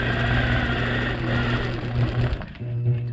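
A sewing machine does ruler quilting, giving off a steady close mechanical hum with rapid stitching that pauses briefly and then resumes.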